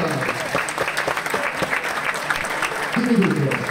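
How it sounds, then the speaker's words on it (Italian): Audience applause at a comics convention in San Marino, a dense steady clatter of many hands clapping at close range, with voices and crowd chatter mixed in and a louder burst of cheering near the end. "E fate un applauso per il Berserk!"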